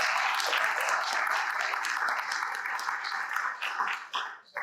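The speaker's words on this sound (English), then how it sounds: "One more round of applause." Audience applause fills a room at a 20th anniversary gathering of a community anti-drug coalition, with steady, dense clapping from a sizable crowd that carries through and tapers off near the end.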